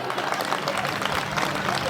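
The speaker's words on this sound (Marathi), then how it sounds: "काय राजा टाळ्या वाजवत आहे" An audience claps during a lively Marathi comedy game show, a busy patter of hands at moderate volume mixed with chatter and crowd noise across a couple of seconds.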